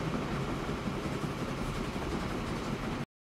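A train running in the video game Train Fever, a steady dense rumble with faint rolling clatter, continuous and close, then cut off abruptly.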